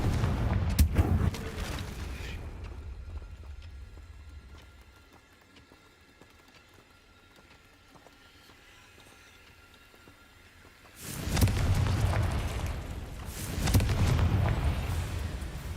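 Fiery Confringo spell blasts in the Hogwarts Legacy video game hit in loud bursts, first a cluster of explosions, then a long quiet stretch, then a second barrage of booming impacts with rumbling fire.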